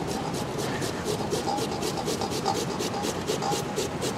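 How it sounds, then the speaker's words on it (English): A potato rasped against a grater into cheesecloth in a kitchen, with steady, rhythmic scraping strokes at a brisk, even pace, close and moderately quiet. "I'm going to go ahead and grate another potato right into the cheesecloth"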